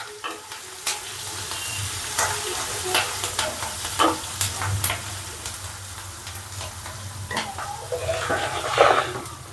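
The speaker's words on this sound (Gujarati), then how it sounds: "થોડાક આપણે મરચાં નાખીશ. એને સાતળી લેવાનું બરાબર." Green chillies sauté in a pan of oil with sesame seeds for a radish-greens shaak, giving a soft steady sizzle broken by repeated spoon stirs and scrapes, fairly faint and close.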